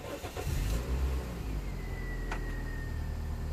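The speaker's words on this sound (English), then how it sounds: "start the engine again" A Toyota Yaris 1.3 with a P1310 fault and repaired wiring starts up and settles into a steady idle, heard close with a continuous engine rumble and no talking.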